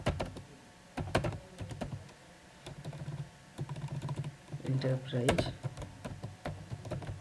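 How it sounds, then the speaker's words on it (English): Keys clatter on a computer keyboard in irregular bursts of quick typing, close and moderately loud, while someone speaks between and over the keystrokes. "I will type"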